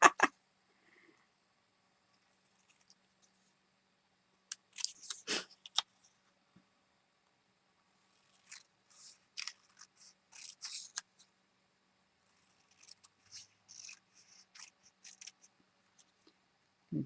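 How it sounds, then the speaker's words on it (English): Scissors snip carefully around paper shapes for fussy cutting, with faint, irregular clusters of small snips and rustles separated by quiet pauses. "Apparently I can't talk and fussy cut at the same time today."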